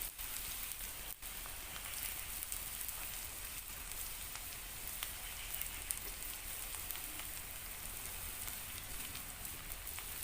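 Chopped onions dropped into hot oil, giving a steady, dense sizzle and crackle that hisses evenly throughout at moderate loudness, with no voices over it.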